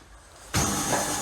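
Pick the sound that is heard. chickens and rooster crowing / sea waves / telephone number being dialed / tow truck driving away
tow truck driving away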